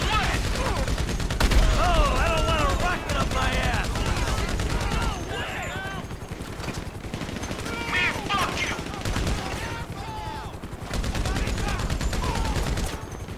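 Dense gunfire from a GTA 5 mission shootout, bursts of shots rattling almost continuously across the whole stretch with loud, busy layered game audio and no quiet gaps.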